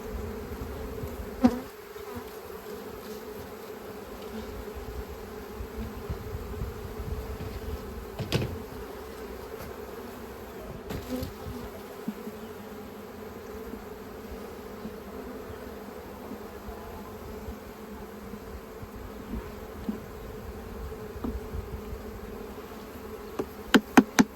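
A swarm of honeybees drones steadily around a swarm trap where fallen bees are being spread out, the buzz continuous and close, broken by a few sharp knocks and taps, especially near the end.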